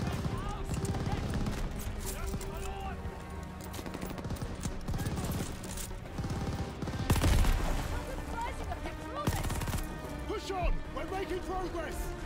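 Enemy gunfire in Call of Duty Vanguard rattles in bursts throughout, with a louder volley near the middle and another later, mixed with game noise and someone talking over it.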